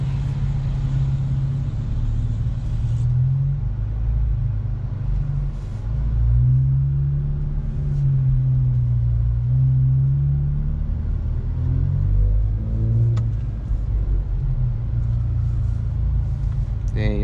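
An Infiniti Q50 on E30 fuel accelerates hard in manual paddle-shift mode with sport mode on and traction control off, heard from inside the cabin as a deep, loud engine rumble rising and falling through the gears.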